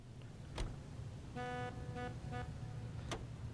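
Car driving in the video game L.A. Noire, a quiet engine hum under short horn toots and brief sharp noises, faint and low in level.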